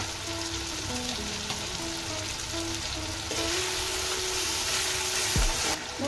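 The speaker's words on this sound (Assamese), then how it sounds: "মই মছলাখিনি অলপমান দি মই ভাজি ললো" Spice masala frying with tomatoes and salt in a pan, a soft steady sizzle running throughout, close but quiet, with faint stirring and a brief utensil clink near the end; no talking.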